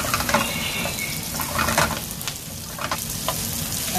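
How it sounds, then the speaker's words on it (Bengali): Chopped onions with salt sizzling steadily in a hot pan, a loud close crackle with occasional stirring scrapes, no talking. "আমি এখন পেঁয়াজ কুচিগুলো দিয়ে দেব"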